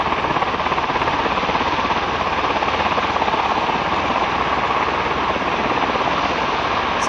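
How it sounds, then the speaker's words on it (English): Steady, loud roar of V-22 Osprey tiltrotor engines spinning up, a dense droning whine with rapid chopping pulses and no break. "Other Ospreys are spinning up too"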